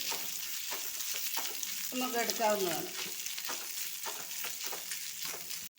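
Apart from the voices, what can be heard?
cooked shredded chicken frying and being stirred in a pan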